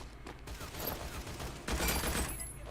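Gunfire from the Honor and Duty D-Day VR video game on PlayStation VR, a dense spread of shots in quick succession that swells louder in the second half, with faint voices beneath.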